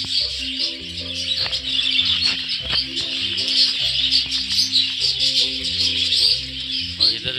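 Hogoromo and exhibition budgies in an aviary setup chirp and warble continuously in overlapping bright calls, with a rhythmic low repeating tone underneath.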